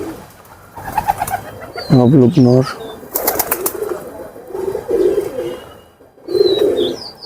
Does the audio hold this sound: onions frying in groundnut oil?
no